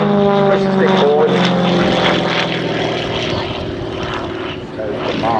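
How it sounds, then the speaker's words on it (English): A Gerald Cooper XA41 aerobatic aeroplane flies a display at Dunsfold Air Show 2016, its propeller engine droning loud and steady with shifting pitch, while a commentator talks over it. "I think we can say quite safely that this aeroplane is flying for all of the time except when it isn't."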